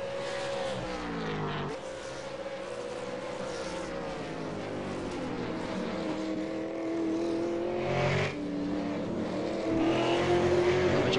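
V8 Supercars race cars roar around the Zolder circuit, engines revving and shifting through gears with a steady rising and falling whine, loud and continuous without commentary.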